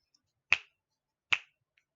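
Two crisp finger snaps ring out close and dry, spaced nearly a second apart, each a sharp isolated crack in otherwise quiet surroundings.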